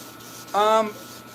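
A sword blade is sanded by hand in a single short rasping stroke, close and fairly loud, against a quiet background.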